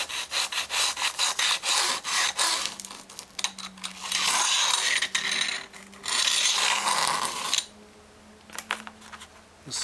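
A tool scratches a center line into a metal file being made into a bayonet, a close series of gritty rasping strokes in irregular bursts with short pauses between them.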